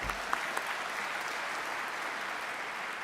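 An audience applauding at a motivational speech, a steady, dense wash of clapping that holds evenly throughout with no pauses.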